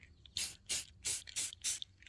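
Short, close hissing bursts from a shaken spray can of clear coat misted over Sharpie-written plant labels in a bean garden, five separate sprays in a steady rhythm with brief quiet gaps between them.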